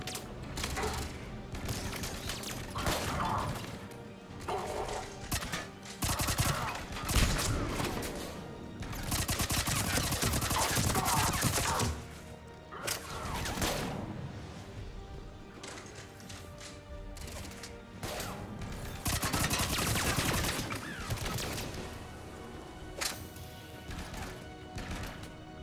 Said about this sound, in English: Submachine gun.